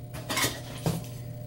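Metal cook pots clatter and clink as they are rummaged through, two brief bursts of knocking and scraping close by, with no talk.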